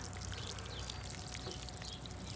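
Water pours steadily from a watering can onto plant cuttings outdoors, a constant close splashing and hiss with no breaks and no talking.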